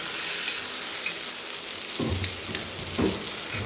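A spoon stirring spicy fried eggplant bharit in a pan, a steady close sizzle with a few soft scraping strokes toward the end, and no voices.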